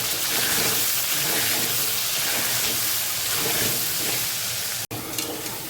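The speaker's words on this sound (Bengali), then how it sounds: "আমার আলুগুলো ভাজা হয়ে গেছে" Steady, dense sizzling of potatoes frying with turmeric and salt in hot oil in a pan, loud and continuous, with a brief dropout near the end.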